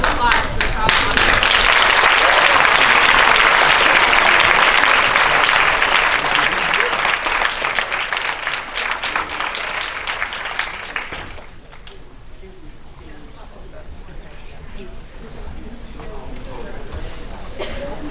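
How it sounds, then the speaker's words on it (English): A theatre audience at a Canadian film day talkback breaks into loud, sustained applause for a filmmaker, dense clapping that holds strong for about ten seconds before thinning and fading under quieter room noise. "Round of applause for Charles Officer."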